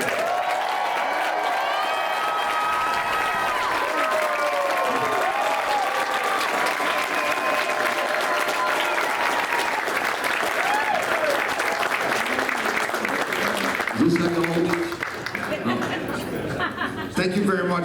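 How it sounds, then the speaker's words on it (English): A large convention crowd applauds and cheers for Alice Cooper at a Spooky Empire Q&A panel, steady loud clapping throughout with scattered voices, laughter and chatter mixed in, swelling briefly near the end. "Let's give a loud applause to the one and only Alice Cooper."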